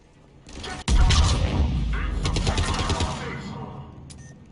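Gunfire in Mass Effect 3 during the Omega DLC, a sudden loud burst of rapid automatic shots and explosive thumps that rattles on for a few seconds before tapering off, with faint voices underneath.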